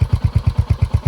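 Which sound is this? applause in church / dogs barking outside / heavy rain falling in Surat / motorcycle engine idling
motorcycle engine idling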